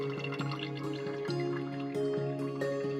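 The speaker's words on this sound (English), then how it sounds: "insert the catheter slowly into your urethral opening until urine starts to flow" Urine flowing from an inserted catheter, heard as a quiet series of distinct drips and liquid plinks falling at an irregular rhythm, close and faint, with no voices.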